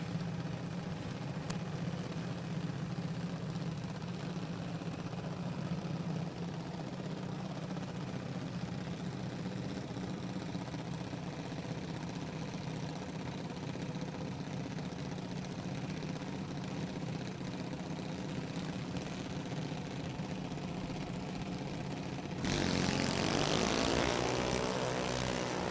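Drag racing cars drone with a steady engine roar at a distance for a long stretch, then a louder, rising burst of engine noise arrives near the end.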